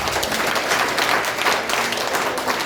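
An audience at a talk breaks into a burst of dense, steady applause that lasts a few seconds at fairly close range. No one speaks over it.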